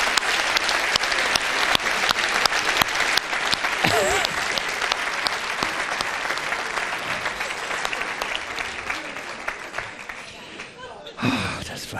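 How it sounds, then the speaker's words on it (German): Theatre audience at a comedy show breaking into sustained applause, dense and steady throughout, with someone talking over it and a few chuckles near the end. "Das ist euer Applaus."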